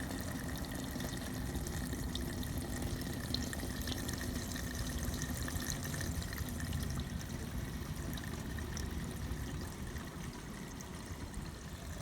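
Gasoline drains from the fuel tank of a Honda Shadow motorcycle into a container, making a steady low pouring trickle that runs unbroken throughout, with no one speaking.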